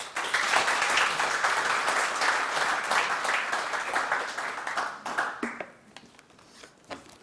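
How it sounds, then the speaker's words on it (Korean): Sustained audience applause at a Korean defense industry society breakfast forum, greeting the newly appointed Defense Acquisition Program Administration commissioner; dense steady clapping that thins and fades out over the final two seconds. "큰 박수로 청장님을 모시겠습니다."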